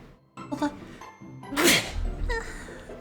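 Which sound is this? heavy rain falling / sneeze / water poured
sneeze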